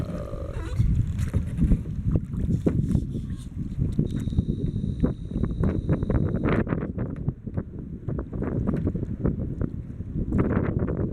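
A large boat passes on River Canard, its low engine rumble steady and moderately close beneath gusty wind buffeting the microphone, with a brief tonal whine midway.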